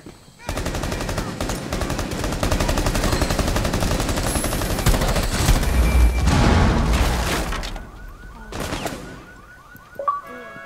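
Rapid automatic gunfire rattles loudly and continuously in Rainbow Six Siege, mixed with a heavy grenade boom, before the shooting breaks off into scattered shots and silence.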